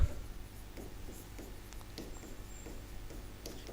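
Chalk or a marker scratches out words on a board during a classroom history lesson, giving soft, irregular strokes and taps at a steady pace, faint and close, with no talking.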